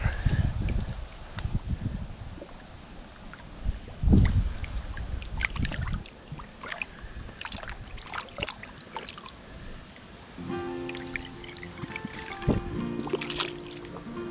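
A dug-up glass bottle is rinsed in murky water, swishing and sloshing close by with drips and trickles, a few soft knocks and a muffled rumble toward the end.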